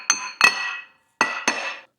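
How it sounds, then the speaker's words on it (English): Hammer lightly tapping a stuck brake rotor on a Mazda B-Series pickup, four sharp metallic clinks in two pairs, each ringing briefly, close and clear with no talking. "if your rotors are pretty stuck, you just want to lightly tap it with the hammer all around."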